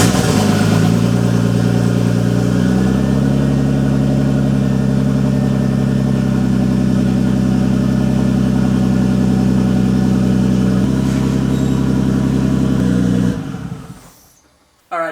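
A turbocharged engine on a project car, scrap build 32, running steadily at a loud, even idle for about thirteen seconds after starting, then abruptly cutting out.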